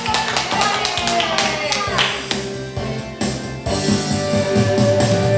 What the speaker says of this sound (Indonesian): Yang cinta Tuhan berikan tepuk tangan.